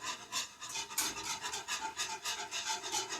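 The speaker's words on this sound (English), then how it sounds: "So whisk that up, make sure that it's not settling." A whisk works through a thickening milk mixture for mac and cheese, making quick, rhythmic scraping strokes, about three or four per second, close and fairly quiet with no talking.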